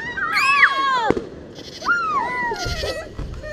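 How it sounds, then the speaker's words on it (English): Fourth of July fireworks go off outdoors: rising whistles, a single sharp crack and a few dull thumps, moderately loud with no talk. "we're out watching fireworks right now"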